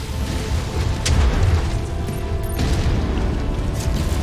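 An enemy mech blowing up in the game MechWarrior 5: Mercenaries, heard as a loud, sustained booming rumble with sharp bursts near the one-second mark and again around two and a half seconds, amid constant heavy mechanical din.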